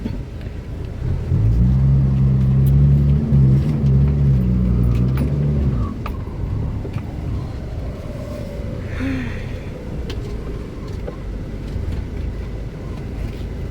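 A car's rear differential groans and strains in sand with a low droning hum for several seconds, then fades into rumbling engine noise and faint background sounds.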